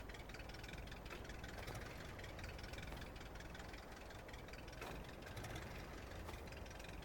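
An old tractor engine, due for an overhaul, runs steadily after starting, a continuous low knocking idle with dense vibration throughout and no talk over it.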